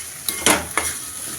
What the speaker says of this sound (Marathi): आता मी मटार टाकते. हां. याला पण परतून घ्यायचं.